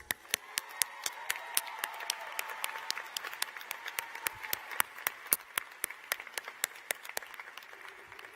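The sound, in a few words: graduation audience applause for Dr. Marino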